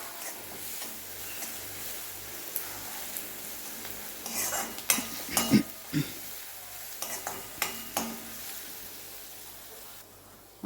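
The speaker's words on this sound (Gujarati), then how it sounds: "એને પણ 2 મિનિટ માટે આપણે સાંતળી લઈશું" Green chillies sauté in a pan, a soft low sizzle running under a few louder bursts of stirring and spoon scrapes near the middle.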